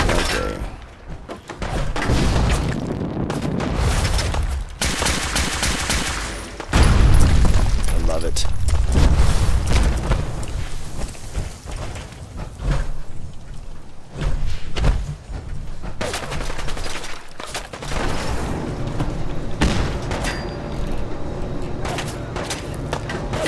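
Fallout 4 combat with dense gunfire and explosions: rapid shot bursts, deep booms and thuds fill the whole stretch at high volume, with voices faintly mixed in.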